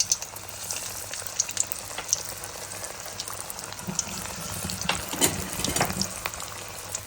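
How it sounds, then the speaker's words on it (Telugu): Onions frying in oil until reddish, as for biryani, while making raw banana vadas; a steady close sizzle and crackle with occasional stirring, and no talking. "ఉల్లిగడ్డ ఎర్రగా మనం బిర్యానీకి ఎట్లా వేయించుకుంటామో అట్లా వేయించుకోవాలి"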